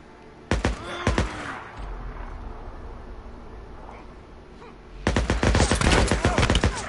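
Gunfire in the zombie video game Days Gone: a sharp shot near the start, another around one second, then a dense rapid burst of repeated shots near the end, loud over a low rumbling game background.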